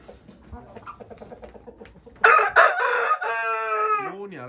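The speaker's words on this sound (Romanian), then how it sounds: "Ia uitați că a ieșit și cocoșul de splash afară la lumină, să-l vedeți." A Splash Barnevelder rooster crows once, loud and close, in a poultry yard. Soft clucking and small scratching sounds come first.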